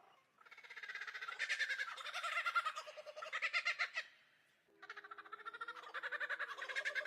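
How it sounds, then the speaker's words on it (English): Kookaburra laughing call, likely from a toy or recording, in two rhythmic bursts of rapid cackling notes that rise and fall, close and alone against silence. "A kookaburra."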